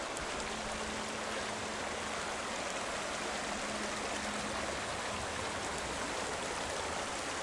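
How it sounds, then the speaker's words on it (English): Creek flowing along a hiking route in the Sierra, a steady rushing and burbling of water heard close by and alone, unbroken from start to finish. "So we're gonna cross this creek here."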